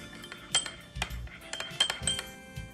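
Spoon stirring ingredients with oyster sauce and water in a bowl, a series of close clinks and scrapes against the dish in an irregular rhythm, with no talking.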